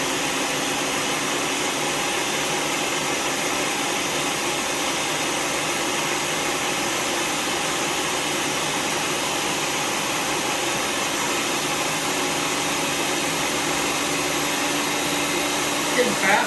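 A 1000-watt Ninja Professional food processor runs on its puree setting with a loud, steady motor whir and blade roar that continues unbroken, with a small knock near the end.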